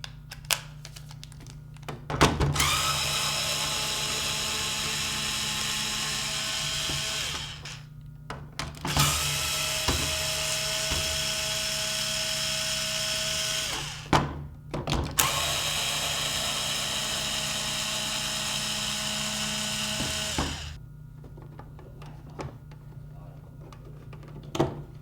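A powered screwdriver backs screws out of a Nerf Maverick toy blaster in three long, steady whirring runs separated by brief pauses and small clicks, with a person speaking faintly around them.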